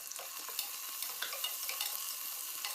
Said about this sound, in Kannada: ಉಳ್ಳಾಗಡ್ಡಿ ನಾವು ಒಂದಿಟ್ಟು ಕಲರ್ ಚೇಂಜ್ ಆಗೋವರೆಗೂ ನಾವು ಹುರ್ಕೋಬೇಕು ಎಣ್ಣೆಯಾಗ